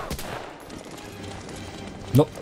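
MP40 submachine gun fire in the shooter game Medal of Honor Allied Assault: a sharp shot near the start, then a louder short burst close to the end over a low, steady game background.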